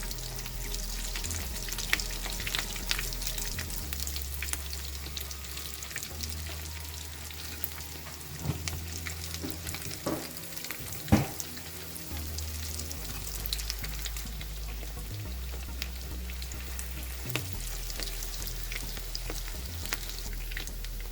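Shami kebabs fry in a pan, filling the space with a dense, steady close sizzle and crackle of hot oil, with occasional louder pops and faint utensil scrapes and no talking.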